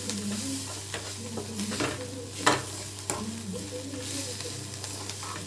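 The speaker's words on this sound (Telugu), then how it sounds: "మనము ఇలా ఫ్రై చేసినందువల్ల క్యారెట్ అనేది బాగా ఫ్రై అవుతుంది" Grated carrot fries in a pan with a continuous close sizzle and the soft scrape of a spatula stirring now and then, with no one speaking.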